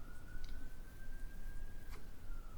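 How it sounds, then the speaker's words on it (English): A wailing emergency vehicle siren drifts at a steady pitch over a dense background rumble, distant and continuous, with no voices. "Sirens. Some things never change."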